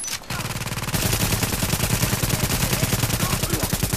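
Sustained automatic gunfire in The Division, a loud rapid continuous stream of shots after a brief opening burst, close and dense with no pauses.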